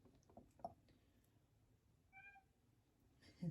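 A cat lets out a short, soft meow in a quiet room, with faint handling noises and small clinks before and after.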